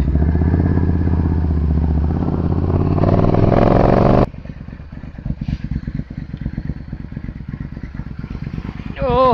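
A supercharged Triumph Bobber motorcycle engine runs loud and rough, rich at low revs, for about four seconds before dropping abruptly to a quieter, uneven idle with lumpy pulses.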